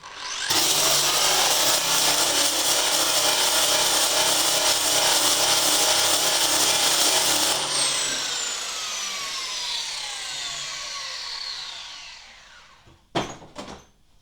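A shrinking disc on a grinder grinds loudly against a steel body panel of an HQ Holden with a harsh, steady whine, then lifts off and winds down with a falling tone, ending in a few clunks.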